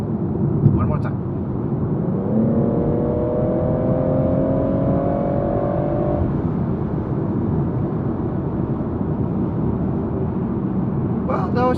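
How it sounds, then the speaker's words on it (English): BMW 440i accelerating hard, a continuous engine roar with a rising tone through a gear, heard from inside the car, steady and fairly loud without talk. "you can hear how fast the car is going"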